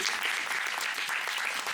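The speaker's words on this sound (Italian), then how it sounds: "Accogliamo Angelo con un applauso." An audience claps continuously and evenly, a dense wash of applause from a full room without pause.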